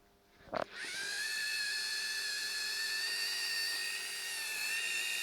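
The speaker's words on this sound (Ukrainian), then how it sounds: "Спочатку дремоль. У нього 175 Вт включаємо його." A Dremel 3000 175-watt rotary multi-tool clicks on and spins up to a steady, high-pitched whine, running continuously and close by.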